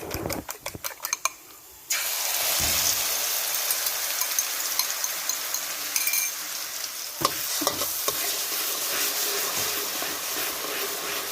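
Garlic and onion sizzle loudly in a pan while being stirred for curry-powder shrimp, a steady frying hiss with scraping stir strokes and a brief quieter gap near the start.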